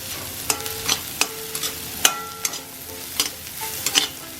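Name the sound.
onions frying and being stirred in a pan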